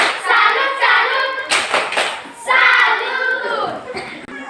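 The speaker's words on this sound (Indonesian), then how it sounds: "Mari kita tepuk salut kepada kelompok 1." Students in a classroom applaud a group's presentation with bursts of rhythmic hand clapping, mixed with young voices chanting in unison, close and fairly loud.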